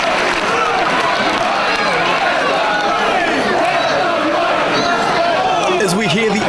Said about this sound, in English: As we hear the adulation from the crowd there